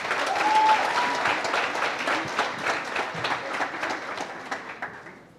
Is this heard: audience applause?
yes